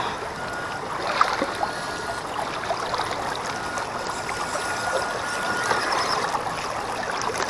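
Stream water gurgling and trickling around a floating WPL C14 RC truck, a steady close wash with small splashes and bubbling throughout.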